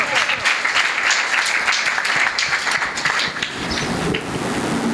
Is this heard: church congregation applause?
yes